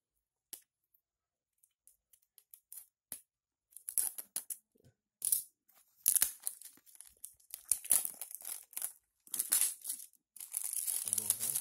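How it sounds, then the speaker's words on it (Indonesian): Plastic wrapping is torn and peeled off a sealed Samsung phone box in black, with sparse crinkles at first and then denser, louder crackling and ripping. A voice talks softly in between. "Kita bongkar plastiknya ya."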